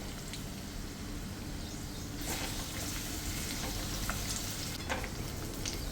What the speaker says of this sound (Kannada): ಸಾಸಿವೆ ಸಿಗ್ತಾಯಿದೆ.